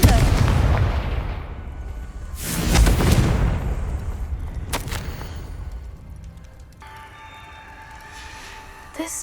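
A Confringo blasting spell in a Hogwarts wizarding video game erupts in a loud, booming explosion, followed by a second sharp crack and then a quieter, tonal magical ambience as the blast fades.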